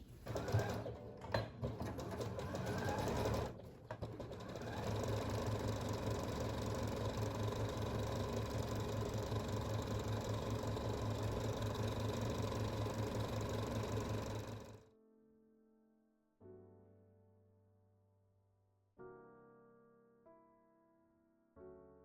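A sewing machine runs steadily and close for about twelve seconds, stitching the side seams and hem of a slip dress, after a few short starts, then stops and soft music notes follow.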